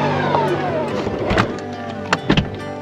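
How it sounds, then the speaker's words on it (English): A 2023 Tesla Model X Plaid's door whirs shut under power from inside the cabin, ending in a couple of soft thuds as it seals. "Close this door."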